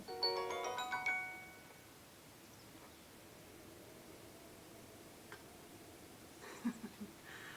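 A phone notification chime rings out at the start in a short burst of bright tones, then fades to quiet room noise with a faint blip near the end, heard during a cozy Breath of the Wild gaming session.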